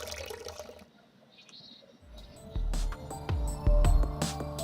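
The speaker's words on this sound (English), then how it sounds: "water is closing in on me from all sides, leaving me pressed in between" Water rushing in within the video game Sound of Drop: a quiet stretch gives way to loud, surging splashes and gushing flow that build in bursts toward the end.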